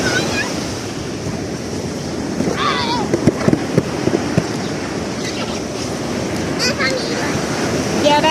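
Sea waves washing onto a beach in Songkhla, a steady close roar of surf mixed with wind buffeting the microphone, with a child's and adults' voices talking and calling over it.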